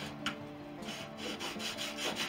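Close, rhythmic rasping of a wooden rudder rib edge being sanded on a sanding block, repeated back-and-forth strokes in a steady scratchy pattern.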